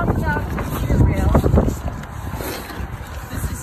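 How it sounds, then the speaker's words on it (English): Strong wind buffets the microphone outdoors beside a 2018 320 CSS camper, a gusty low rumble that swells and fades throughout while a person talks over it early on. "It's very windy today."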